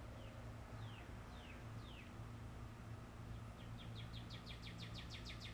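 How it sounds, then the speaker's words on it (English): Faint northern cardinal song drifts in from a distance: a few slow downward-slurred whistles, then a faster run of repeated chirps, over a steady background hum. "That's the cardinal going."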